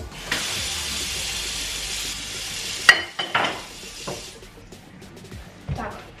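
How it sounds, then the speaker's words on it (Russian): Water runs steadily from a kitchen tap for a few seconds, a hard clatter cutting in partway, then softer splashing and scattered clinks of dishes being washed in a sink. "и вот так вот я буду мыть посуду"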